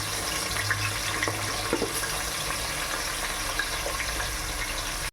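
Two large onions sautéing in a pan for biryani, a steady dense hiss of frying close by, continuous with faint scraping and spatter and no voices.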